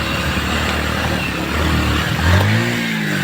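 A motorcycle engine runs steadily while riding through Dharan, a loud continuous drone with the revs rising and swelling near the end, with no talking over it.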